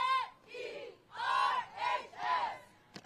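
Crowd at a cheerleading championship yells in rhythmic surging bursts, several swelling chants rising and falling in quick succession, loud and close with no clear speech.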